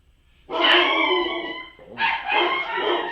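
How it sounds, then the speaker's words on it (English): A dog barks outside a house, probably at someone walking past; two loud, sustained bursts of barking or howling, close and clear, with no talking. "That sounds like the bark of someone walking in front of my house."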